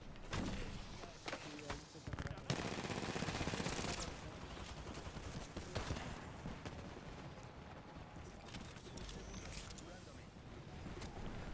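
Gunfire exchanged from two sides in an Apex Legends match: dense, continuous bursts of shots and impacts run throughout, loud and cluttered, with game effects mixed in.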